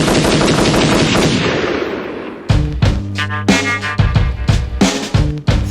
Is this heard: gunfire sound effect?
yes